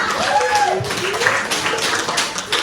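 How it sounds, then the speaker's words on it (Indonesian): Classmates in a school lesson give a short, steady round of clapping, with voices mixed into the dense patter. "tepuk tangan buat teman-teman semua"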